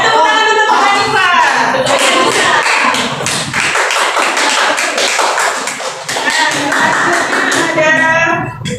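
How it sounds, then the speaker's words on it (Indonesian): A classroom of students claps in a dense, loud, sustained round of applause for Pak Hanifah, the sharp hand taps blurring together for several seconds with a brief lull midway. "tepuk tangan untuk Pak Hanifah"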